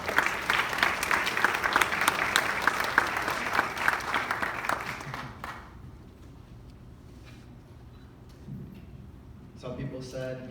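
A school-event audience claps warmly to welcome a speaker, with dense applause for about five seconds before it dies away into a quiet room, then a voice starts to speak.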